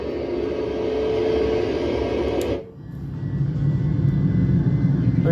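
Airplane engine in a flight simulator game, a steady loud drone that briefly dips and then returns with a deeper, rising rumble as the throttle is pushed up.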